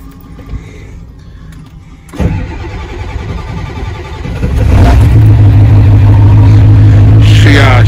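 An OBS Ford truck's diesel engine cranks for several seconds after the glow plugs cycle and struggles a little before catching and settling into a loud, steady idle, heard close up.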